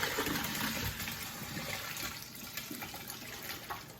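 Running tap water splashes steadily over apples being rinsed, close up, with slight shifts in the flow.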